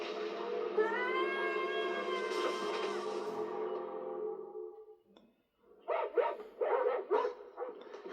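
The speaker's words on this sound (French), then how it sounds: "C'est pas lui qui a constamment une bande de chiens déchaînés à ses trousses" A dog's drawn-out howling whine gives way after a short pause to a burst of several sharp, close barks.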